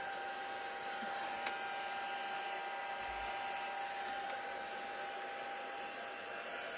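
A hair dryer blows continuously at close range, drying ink on a craft background, with a steady loud whir throughout.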